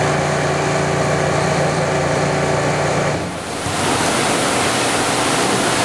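High-pressure pulse jet blasts water into a transmission case port during cleaning, a loud steady hissing rush close by with a brief dip partway before resuming.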